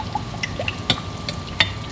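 Hot water poured into a cooking pan for a salmon and orzo dish, used in place of chicken broth, giving close, splashy liquid sounds with small drips and trickles over two seconds.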